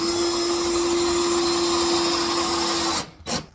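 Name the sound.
drill driving screw into hardwood flooring board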